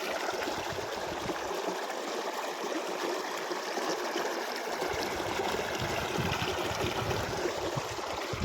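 Water from a motor pump rushes into a field irrigation channel on a farm between wheat and paddy seasons, a steady, fairly faint outdoor splashing flow with no voices.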